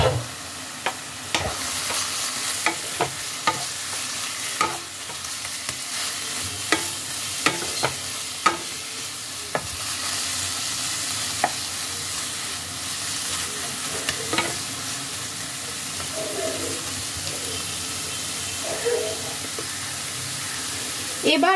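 Shrimp and radish ghonto cooks in a pan, a steady close sizzle broken by sharp clicks and scrapes of a utensil against metal, continuing throughout.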